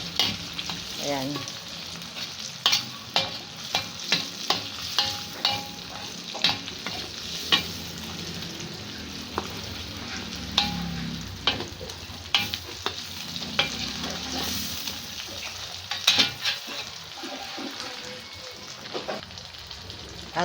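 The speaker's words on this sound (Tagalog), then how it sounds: "Ginisa ko na yung bawang, sibuyas, kamatis." Garlic, onion and tomato sauté in a pan with a constant crackling sizzle and repeated spatula taps and scrapes. Someone speaks a single word briefly.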